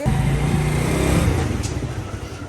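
A motorbike ride with a passenger aboard, the engine giving a steady, loud, low drone close by throughout, with no talk over it.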